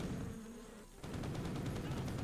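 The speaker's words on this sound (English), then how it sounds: "I literally think I killed myself by accidentally dropping bees on myself" Bees dropped onto the player in the Postal video game: a dense buzzing swarm hum, close and continuous, joined partway through by rapid rattling bursts like gunfire.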